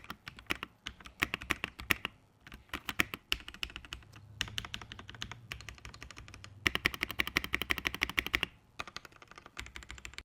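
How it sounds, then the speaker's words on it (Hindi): Keys clatter on a KREO computer keyboard in quick bursts of close, crisp clicks, fast runs broken by short pauses, with no voices. "अब एक स्पेसिफिकली थोड़ा 30 सेकंड के सेक्शन के अंदर कीबोर्ड की मैं साउंड सुना देता हूं"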